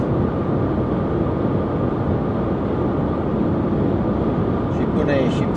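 Broadband wind and road roar inside a 2020-generation Dacia Logan or Sandero cruising at 120 km/h on a highway, a steady, loud, unbroken rush filling the whole cabin with no talk.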